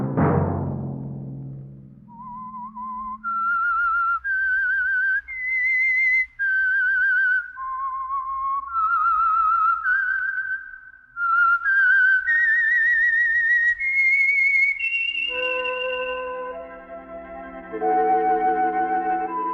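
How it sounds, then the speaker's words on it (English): A lone whistler carries the theme melody of the radio mystery The Whistler, clear sustained notes stepping up and down with brief pauses, joined by orchestral music near the end. "Let that whistle be your signal for the Signal Oil program, The Whistler"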